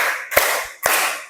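Claps in a counted clapping game, a few sharp hits over roughly a second with a softer tap between them, close and clear with no talk.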